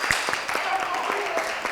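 Short burst of applause in a church gathering, brief claps under a continuing voice, fairly close.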